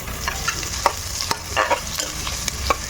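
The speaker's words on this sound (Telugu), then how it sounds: "ఇక్కడ మనకి ఉల్లిపాయలు వేగుతున్నాయి." Onions fry in a pan with a constant close sizzle, broken by the clicks and scrapes of a spoon stirring every half second or so, with no voices.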